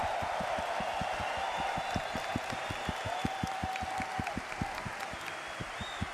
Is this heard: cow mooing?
no